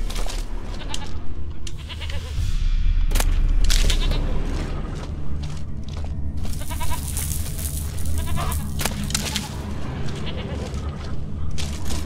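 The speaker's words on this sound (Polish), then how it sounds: "No nie mów mi, że coś kozy mi atakuje." Goats bleat repeatedly in The Witcher 3 video game, mixed with loud game ambience and low rumbling booms over a steady dense background.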